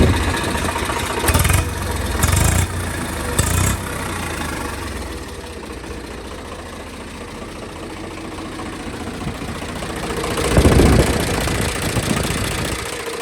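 A 2007 Swaraj 855 tractor engine idles with a steady low rumble, broken by a few short revving bursts early on and a louder surge near the end.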